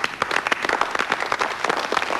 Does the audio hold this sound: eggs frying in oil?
no